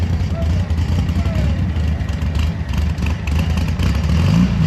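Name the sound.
air-cooled Volkswagen engine running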